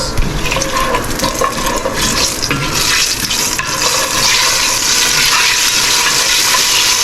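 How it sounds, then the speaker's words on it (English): Whole chilies spluttering and crackling in hot oil for Bengali muri ghonto, a loud, dense sizzle of rapid pops that carries on steadily, with no talk. "Just be careful when your oil is hot. The chilies can splutter"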